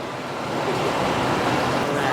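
A steady, loud rush of falling water, broadband and continuous, like standing near a waterfall at a metro station in Chongqing.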